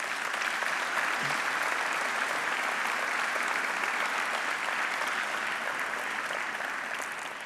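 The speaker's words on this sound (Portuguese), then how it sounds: "Uma salva de palmas para todos eles." Sustained applause from an audience at a municipal anniversary ceremony for Odivelas, a dense steady clatter of many hands that holds loud throughout before easing slightly at the end.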